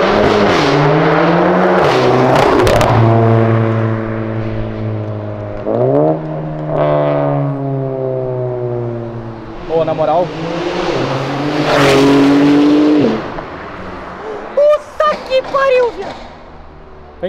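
A Porsche built for off-road use drives down an avenue, its engine droning and rising through gear changes as it passes nearby, loud and up close, with people talking over it.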